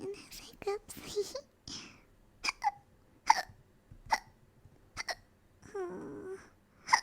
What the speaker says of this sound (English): This little kitten has hiccups.